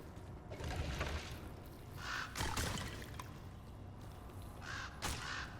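Several birds summoned by a Druid in Diablo 2 caw repeatedly over a steady game background hum, with a couple of distinct calls standing out.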